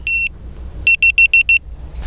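A ViFly Beacon drone anti-theft alarm beeps in sharp, high electronic tones: one long beep, a pause, then five quick evenly spaced beeps, loud and close over low outdoor background rumble.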